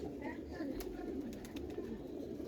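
Female pigeons in a loft keep up a low, steady cooing murmur, with a few sharp clicks or flutters over the top and some faint voices mixed in.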